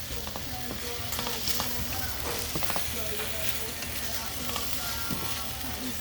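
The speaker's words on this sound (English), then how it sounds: "it's a little harder to get the bay scallops to tan up for me. Or to sear up" Bay scallops sear in a hot pan, producing a dense, continuous sizzle with frequent small spits and pops, heard close and steady.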